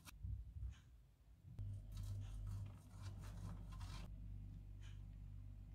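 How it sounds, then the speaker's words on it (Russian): Boiled egg whites and yolks are rubbed on a fine grater in a kitchen, making faint, close scraping strokes in short bursts over a low background hum. "Разделяю яйца на белки и желтки и по отдельности натираю на мелкой терке."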